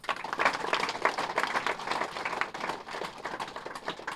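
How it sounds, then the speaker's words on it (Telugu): An audience at a gathering claps loudly for the grand masters, dense steady applause from many hands, close and continuous, with no voice. "అటువంటి గ్రాండ్ మాస్టర్స్ మధ్యలో మనం ఉన్నందుకు వాళ్ళకోసం గట్టి క్లాప్స్ కొడదాం"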